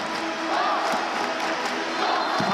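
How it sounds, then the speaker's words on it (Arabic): An Egyptian home crowd in the stands at an African handball championship final against Tunisia keeps up a steady, dense roar of cheering and chanting, loud and continuous throughout. "التشجيع الحار من الجماهير المصريه اللي حاضره في المدرجات"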